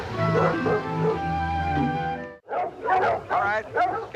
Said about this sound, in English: It's not good for the dog to get excited before a race.